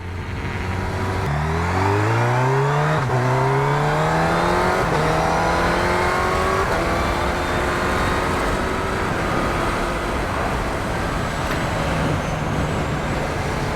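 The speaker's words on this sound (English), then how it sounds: "just a short shift through the box and the thing just takes off" A 2021 Honda CB1000R Black Edition motorcycle revs hard and accelerates through several rapid quick-shifter upshifts, pitch climbing then dropping with each gear change, loud and close throughout.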